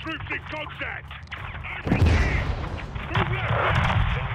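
In Modern Warfare 2, heavy gunfire and a booming airstrike hit a greenhouse. A loud blast breaks out midway and rumbles on under steady shooting, while radio voices talk over the action.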